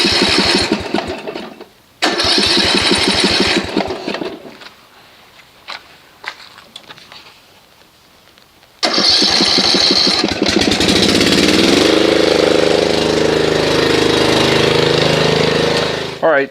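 A Snapper RER riding lawn mower cranks loudly in two bursts, falls quiet apart from a few faint clicks, then cranks again, catches and settles into a loud, steady engine run close by.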